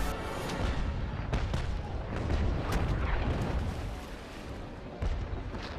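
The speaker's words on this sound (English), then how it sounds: "He's trying to shoot my mast out." Ship cannons in the naval combat game Naval Action fire over a dense, continuous roar, with repeated booming blasts arriving in irregular succession amid steady battle noise.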